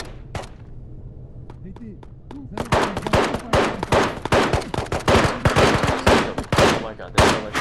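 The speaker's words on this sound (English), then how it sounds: "so much gunfire all around me" Rapid automatic gunfire crackles in dense, overlapping bursts during a solo raid in the Chodov Mall area of the VR game Ghosts of Tabor, loud and close.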